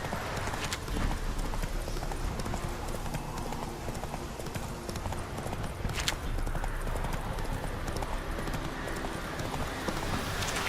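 Roach, a horse in The Witcher 3, gallops with fast, steady hoofbeats that clop continuously under ambient game sound, fairly close.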